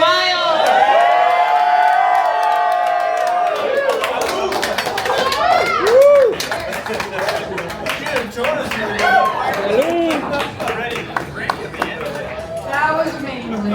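Crowd at a one-year anniversary celebration for the Colorado Agave Collective cheers, whoops and claps after a toast, rising into loud sustained applause with shouting mixed through continuous excited chatter.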